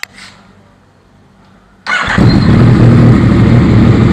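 A 2018 Yamaha MT-09 motorcycle engine fires up abruptly after a quiet moment, then settles into a loud, steady idle close by.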